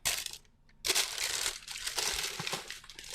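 Shoe paper crinkles and crumples in bursts close by as a pair of Air Jordan 8 sneakers is unboxed, with a short pause before the rustling resumes, quiet and without talk.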